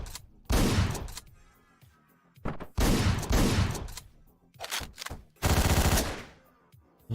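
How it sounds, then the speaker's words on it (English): Gunfire rings out while enemies are shot in the video game Hotline Miami: several loud, rapid bursts of shots separated by short pauses. "I'm shooting a lot more because your aim is kind of jacked in this level"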